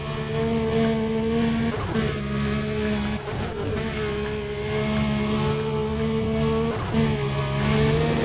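Racing car engine in Need for Speed: Undercover droning steadily at high speed with sustained harmonic whine, brief dips and re-surges as it shifts and accelerates, loud and continuous with no talk.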